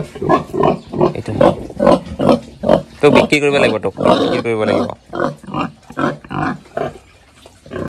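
Pigs on a pig farm grunt and squeal in short bursts underneath steady, close talking, with one longer squealing call standing out midway through.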